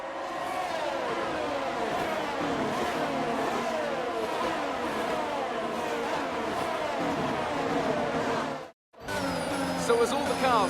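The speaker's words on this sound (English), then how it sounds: "the formation lap gets underway" F1 cars from the F1 22 video game roll through a formation lap, a dense layered drone of many engines revving and whirring steadily at close range, with a brief dropout near the end before the engine noise resumes.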